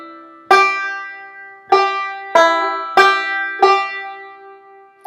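Banjo picking the pickup notes and opening phrase of Kansas City Railroad Blues, five bright plucked strikes with ringing decays, close and alone.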